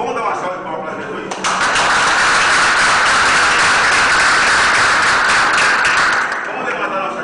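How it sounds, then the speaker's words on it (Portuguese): A church congregation breaks into loud, sustained applause for Jesus at the close of a preaching service, dense clapping that swells suddenly and holds steady before easing off, with a voice faintly heard at the start. "Vamos dar uma salva de palmas para Jesus."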